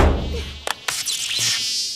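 Buzzing of a cartoon spy fly, a thin whining hum broken by a couple of sharp clicks, close and fairly loud over a short stretch.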